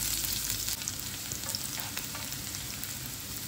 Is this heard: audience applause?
no